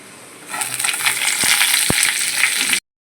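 Sliced green chillies frying in hot oil with spices, a steady close sizzle that swells as they hit the pan, with a couple of brief stirring knocks and no voices.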